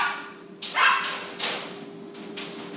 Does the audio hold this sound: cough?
no